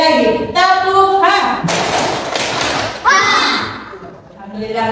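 Group of primary school children doing a 'tepuk H' clapping chant: sing-song chanting sits between a dense, loud bout of rhythmic clapping and thumps midway through.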